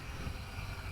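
A DJI F450 Flame Wheel quadcopter drone flies nearby, its motors giving a steady, loud whirring drone with a constant low hum that holds unchanged throughout, no voices present.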